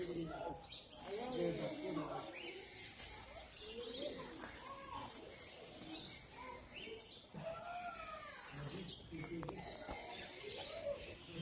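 Pigeons cooing with other birds calling at an outdoor bird park with feeding tables, soft and fairly distant, running continuously under a steady murmur of people talking.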